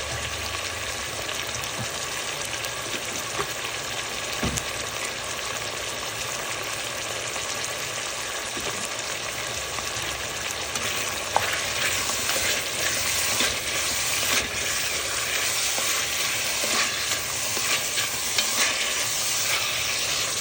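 Ingredients for Guyanese cook-up rice, with dry thyme, fry in a pot with a steady, close sizzle and hiss, occasional stirring scrapes, and no talk throughout.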